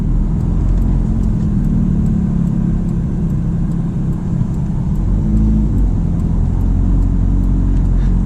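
Ferrari F430 Spider in auto mode, creeping through traffic: a steady low engine rumble and drone, heard close from inside the car, constant throughout.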